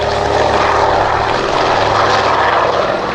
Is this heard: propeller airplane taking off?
yes